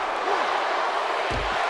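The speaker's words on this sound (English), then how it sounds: "This crowd with the dueling chants." Wrestling arena crowd in WWE 2K17 at a TLC ladder match, a broad steady roar of many voices with chant-like swells, ending in a low thud near the close.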